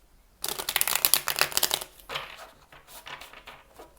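A deck of tarot cards is shuffled in a quick riffle of dense crisp flutters, then softer rustling and handling of cards close by.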